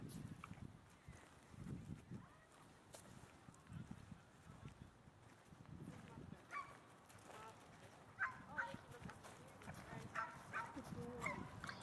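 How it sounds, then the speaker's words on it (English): Dogs bark intermittently at a distance at a dog agility area, faint under nearby people talking and ambient outdoor noise. "You can hear the other dogs from agility barking."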